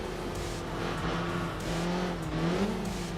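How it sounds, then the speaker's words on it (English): A race car engine in Enthusia Professional Racing bouncing off its rev limiter, a loud, steady high-revving drone that stutters and warbles as the pitch wavers, held close throughout with faint tire noise underneath. "We're bouncing off our rev limiter."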